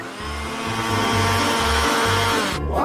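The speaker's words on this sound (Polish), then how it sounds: "Zrobię to szybko za pomocą miksera." An electric hand mixer whirs steadily through a zucchini and egg batter, its loud motor pulsing in short surges with no voices over it.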